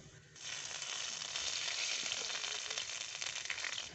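A bay leaf, dried red chilies, whole cumin and ginger fry in fish oil for a fish-head dal tempering, a dense steady sizzle that rises quickly after a quieter start and stays close and even.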